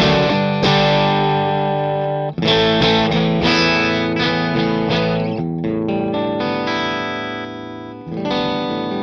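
An electric guitar played through a Vox AC30 amplifier, loud and close, with strummed chords and bright, full distortion and brief pauses between phrases.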